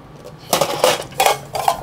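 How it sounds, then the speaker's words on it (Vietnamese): A Japanese camping cooking pot set with lid is handled up close, giving bursts of clattering metallic knocks and scrapes in quick irregular clusters, moderately loud with no talk over it. "Một bộ nồi và cà men của Nhật ha."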